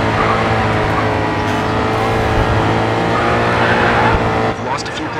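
Race car engines in GRID 2 drone loudly and steadily at the start of a Rockstar Energy Race Series event, a dense pack of revving motors that drops off abruptly near the end, with a voice talking over them.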